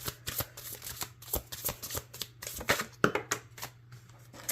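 Oracle cards being shuffled by hand, a series of crisp papery riffles and slaps in an uneven rhythm, close and fairly quiet over a low steady hum.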